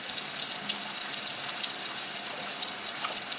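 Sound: hands being scrubbed under a running water tap

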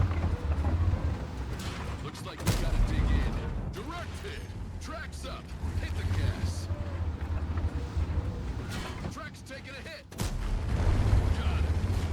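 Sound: tank cannon shots in video game World of Tanks

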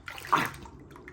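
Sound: milk being poured into a pot

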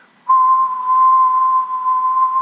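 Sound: person whistling into a microphone

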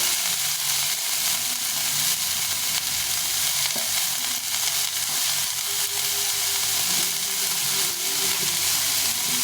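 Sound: frying gourd peel with potato and onion

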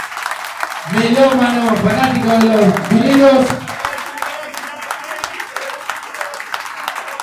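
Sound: audience applause for a DJ

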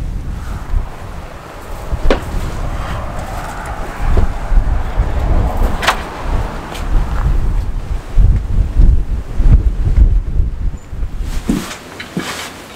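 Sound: strong wind blowing at a narrowboat mooring

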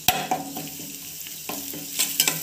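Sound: cumin, garlic and spices sizzling in hot oil

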